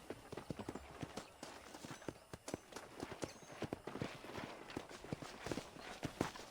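Horse hooves clip-clop at a steady walking pace in the Red Dead Redemption video game, with crisp, evenly spaced hoofbeats that sound close and clear over a light ambient background.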